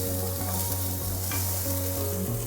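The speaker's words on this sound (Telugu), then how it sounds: "ఇప్పుడు ఏం చేద్దాము, కొద్దిగా ఆనియన్ వేయించుదాం." Onion fries in hot oil with a dense, steady sizzling hiss that stays even throughout, while tonal background music plays underneath.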